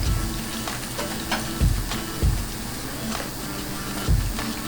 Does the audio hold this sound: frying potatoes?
yes